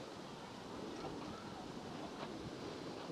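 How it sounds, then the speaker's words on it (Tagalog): Strong wind gusts at a white sand beach in Unisan, Quezon, a steady roaring rush of wind noise with a faint wash of surf beneath it. "Lakas ng hangin."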